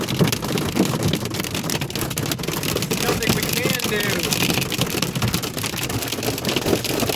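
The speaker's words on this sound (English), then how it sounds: "the hail came down more than we've ever seen" Dense, steady pelting of hailstones on a vehicle in a Colorado parking lot, continuous and loud throughout, with a few brief voices underneath.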